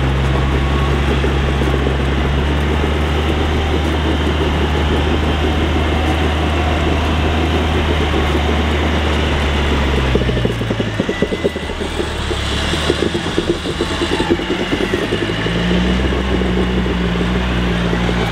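A new winch on a turbocharged Toyota Troopy 4x4 pulls steadily under a loud, constant engine drone, and the pitch of the motor hum shifts partway through the pull.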